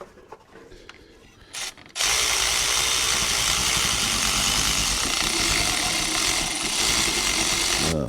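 A power tool removes bolts on the power steering pump of a 1976 Cadillac Eldorado, a loud continuous whirring and rattling burst that starts suddenly after a couple of seconds of quiet mechanical clinks and runs to the end.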